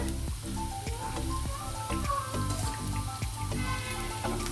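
Bitter gourd pieces frying in a pan for a bitter gourd curry, a soft continuous sizzle with scattered pops and crackles, steady and close.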